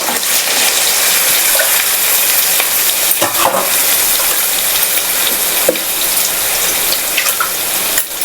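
Water poured from a mixer jar into a pan of frying paste sets off a loud, continuous hiss and bubbling sizzle, with a few clinks and stirring sounds over the rush.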